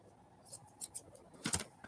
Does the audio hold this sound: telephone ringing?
no